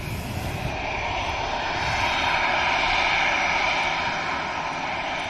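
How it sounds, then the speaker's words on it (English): EasyJet airliner jet engines at Manchester Airport as the aircraft lines up for departure, a steady, loud, broad roar that holds evenly throughout without breaks. "EasyJet next to line up."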